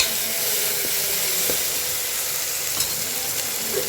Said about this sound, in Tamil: இஞ்சி பூண்டு பேஸ்ட்டு ராசுமல் போகிற வரையும் நல்லா வதக்கிக்கிடணும்